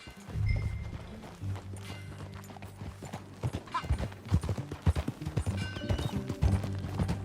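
Horse hooves clip-clop steadily at a walking pace in the video game Red Dead Redemption 2, moderately close, over a low ambient background with occasional thuds.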